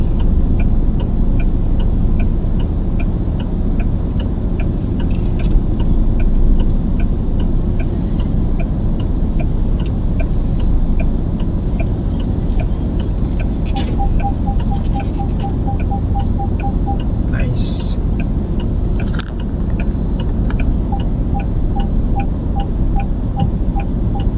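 Car hazard lights tick in a steady, faint rhythm while a vehicle reverses into a parking spot at IKEA, heard inside the cabin over a constant engine hum.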